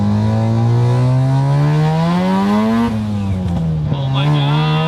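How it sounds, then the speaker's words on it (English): A Mazda FC RX-7 race car on a golf course holds a loud, steady, buzzing engine note whose pitch climbs slowly, then dips and rises again as it shifts, close and dominating. "I'm just driving this totally obnoxious race car on Clemson University's golf course"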